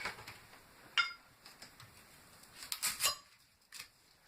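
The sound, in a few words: knife topping and tailing an onion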